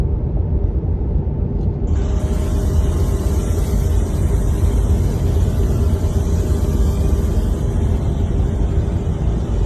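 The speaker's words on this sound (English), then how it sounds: "Look at the military vehicles they got ready." Military vehicles and trucks rumble past with a heavy, continuous low engine drone, loud and steady throughout, with no voices.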